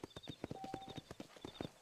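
A horse clip-clops in Red Dead Redemption, an even, brisk rhythm of hoof beats ridden at speed, loud and clear with a faint chirping and whining in the background.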